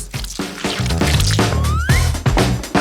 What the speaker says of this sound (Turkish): Çikolatayı kalıba döküyoruz.